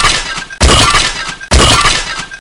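Heavy smashing crash effects in a castle siege battle, two loud, close shattering impacts about a second apart, each bursting sharply and then crumbling away into debris noise.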